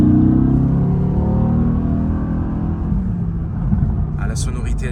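A Mercedes-AMG GT engine rumbles and revs with deep bass resonance, a loud steady drone that slowly falls in pitch, heard from inside the car.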